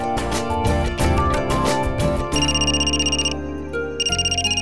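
A phone ringtone plays loudly and steadily in a wedding household, its looping electronic melody repeating with a brief change partway through, with no voices over it.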